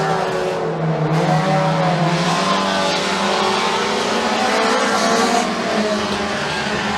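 Mini stock race cars roar around McKean County Raceway in a close battle for the lead, engines loud and sustained with a steady revving drone and shifting pitch as the pack runs side by side off a turn.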